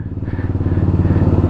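A motorcycle being ridden down a slope thrums with a close, loud, rhythmic low engine pulse that stays steady for the whole moment.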